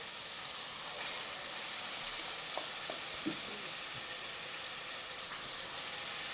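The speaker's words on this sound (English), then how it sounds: "Now we're going to add 2 ladles of the base gravy, which is around 300 ml." Base gravy sizzles in a pan of curry masala with a steady hiss, soft and close, broken by a couple of faint stirring knocks.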